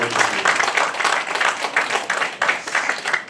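Audience applause at an award ceremony and year-end gala, a steady wash of many hands clapping with pulsing bursts throughout, moderately loud and close, with no talk over it.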